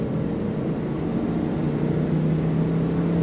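A 2002 Ford Thunderbird convertible engine, hardtop on, drones steadily and close by while accelerating, an even, continuous rumble with no other sounds.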